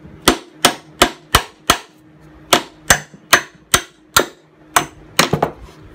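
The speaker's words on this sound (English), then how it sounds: "take a 3-inch carriage bolt. We're gonna drive it through the hole that Roland pre-drilled for us." A hammer drives a 3-inch carriage bolt through a pre-drilled hole in wood for a cornhole board, with a dozen sharp close metallic strikes in uneven groups and short pauses between.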